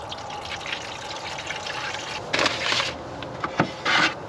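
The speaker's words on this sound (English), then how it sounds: "we gotta fill up the back here with water." Water poured from a Nalgene bottle into the reservoir of a coffee maker inside a van, a steady close trickle and splash that swells in a few louder bursts toward the end.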